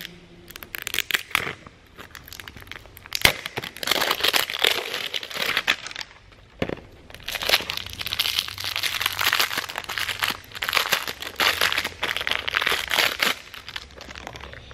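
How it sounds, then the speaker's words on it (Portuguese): Continuous crinkling and tearing of a plastic zipper bag from a LOL Surprise doll package, with loud rustling bursts and a brief pause midway, close up. "Vamos rasgar o próximo zíper."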